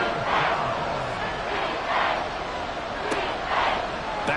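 A video game crowd roars steadily through an American football game near the goal line, with swells of cheering rising and falling over a continuous stadium din and faint talk.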